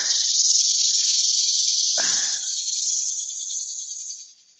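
Sanding with 80 grit sandpaper gives a steady, close, bright hiss that dips briefly midway, then fades out at the end, with no talking.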